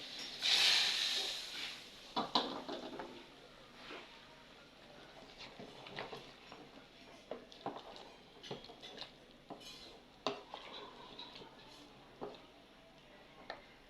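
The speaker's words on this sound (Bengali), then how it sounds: "গাইস দেখুন আলুগুলো আমি দিয়ে দিচ্ছি ঢেলে" Freshly fried potatoes are tipped from a pan and stirred, giving a busy clatter of metal utensil scraping and tapping against cookware, loudest at the start, then continuing as irregular close clinks and scrapes over a faint hiss.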